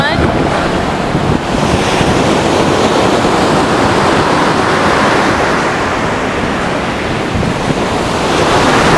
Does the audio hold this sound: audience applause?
no